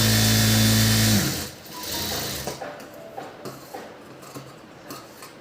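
A sewing machine whirs loudly for about a second while stitching a fabric strip onto a blouse, then stops, followed by soft mechanical clicks and taps of fabric handling.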